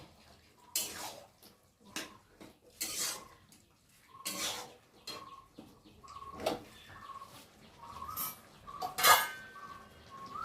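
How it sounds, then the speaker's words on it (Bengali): A metal utensil stirs pumpkin greens chorchori with shrimp in a pan, making repeated scraping and clinking strokes in an uneven rhythm. The strokes come close and clear, with short quiet gaps between them. "একটু ভালো করে নেড়ে নেব।"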